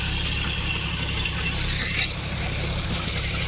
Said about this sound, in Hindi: ये जॉन डियर चल रहा है अपना